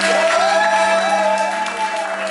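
A studio audience applauds and cheers at the close of an evening's vote on a French reality show, forming a loud, steady wash of clapping and crowd noise with no pauses.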